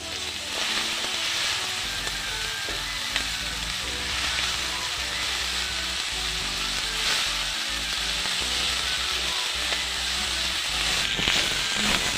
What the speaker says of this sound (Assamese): আৰু এতিয়া এইফালে ঢেকীয়া ভাজি হৈ গ'ল।